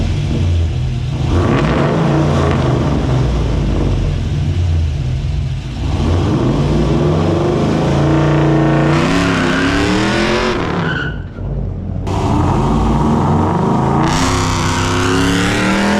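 A 1992 Chevy C1500 pickup with an LS1 V8 swap and T56 manual does a burnout, its engine roaring loud and steady for the whole stretch as the tyres squeal and skid, with revs rising and dipping, close and unbroken.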